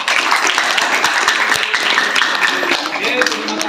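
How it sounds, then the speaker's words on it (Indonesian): Students clap for the fifth group in a classroom, dense, lively applause from many hands that carries on steadily throughout, with a voice speaking over it. "kasih aplaus dulu untuk kelompok yang kelima"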